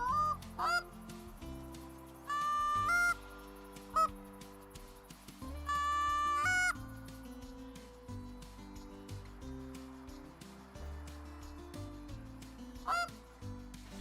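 Geese in a hunting video game honk repeatedly in loud, overlapping bursts, with a low engine-like drone underneath and several short sharp cracks scattered through.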